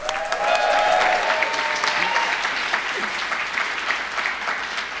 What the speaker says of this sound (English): So warm round of applause for Stephanie.